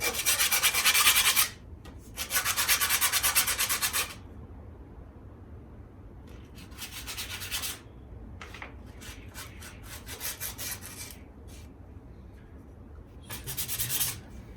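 Sandpaper rasping on a Redline BMX bike frame in bursts of rapid back-and-forth strokes, some long and steady, others short and choppy, with quiet gaps between, close and fairly loud, no talking.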